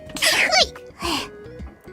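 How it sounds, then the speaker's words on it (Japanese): A single sharp sneeze from a person bursts out loud and close, followed by a softer second breathy sound, with no other talk. "失礼、くしゃみが出ました。"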